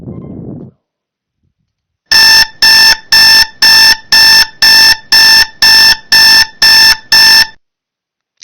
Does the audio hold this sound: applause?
no